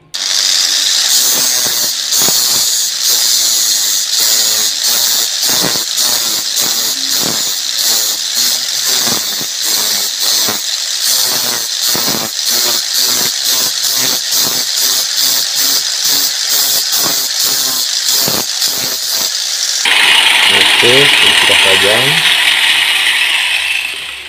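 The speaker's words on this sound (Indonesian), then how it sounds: "kita tajamkan dulu ya dengan gerinda ya, kita tajamkan dulu" An electric grinder sharpens the tip of a small metal spear point for a mini uklik dart, running loud and continuous with rapid rattling bursts as the blade touches, then a brighter steadier whine near the end.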